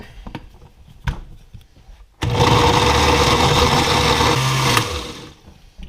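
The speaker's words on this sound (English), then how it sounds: "Then we're going to blend them up a little bit." A kitchen blender whirs into a steady high-pitched grinding whir as it purees canned sardines in their oil for spot prawn bait, running for about two and a half seconds after some knocking and handling sounds, then stopping.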